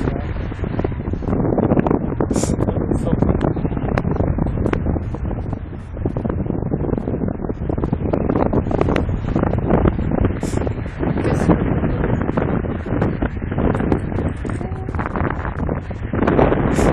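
Strong wind buffets the microphone as a vehicle moves at about 30 km/h, a loud, continuous roar with gusty rustling that holds steady throughout and never drops away.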